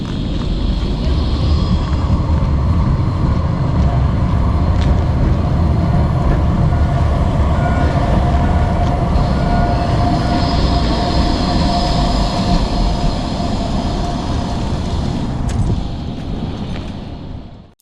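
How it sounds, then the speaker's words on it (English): A Gothenburg tram rumbles and whines as it pulls away, with steady low rolling noise, faint metallic squeals and a gradual fade near the end. "we can listen to the sound of the tram during its departure."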